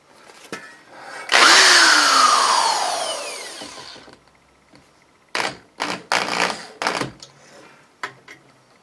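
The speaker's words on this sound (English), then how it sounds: "So I just need my drill." A power drill bores into a wooden board for a Christmas lamp post, a loud whirring run that winds down over about three seconds, followed by a series of close clunks and knocks from handling the drill and wood.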